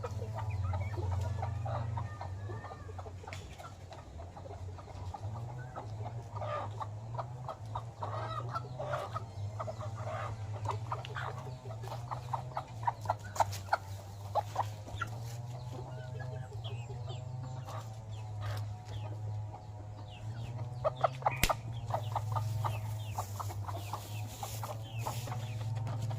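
A mother hen and her chicks cluck steadily while being fed rice, with the hen's low repeated clucks running throughout under the chicks' thin cheeping, close and fairly loud.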